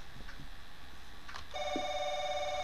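A telephone rings in the horror video game Paranoiac, a steady electronic tone that starts suddenly partway through after a few faint knocks and creaks, clear and close.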